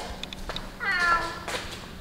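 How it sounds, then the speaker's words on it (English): A Bengal cat gives a drawn-out, fairly close meow midway through, set against quiet household background noise with a few soft clicks. "Sounds like we've got a very meowing bengal somewhere."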